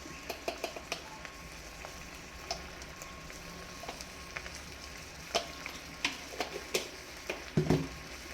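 Pasta is stirred and tossed in a frying pan, a low constant sizzle under scattered soft clicks and scrapes of the utensil, ending in a slightly louder clatter.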